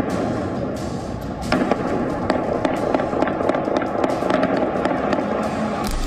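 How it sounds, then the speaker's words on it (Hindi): Sharp scattered cracks of gunfire sound at a distance over a dense roar of crowd noise and fire during a blaze at Evin prison in Iran, irregular and echoing. "जहां अचानक आग लगने के बाद गोलियां चलने की आवाजें सुनाई दी"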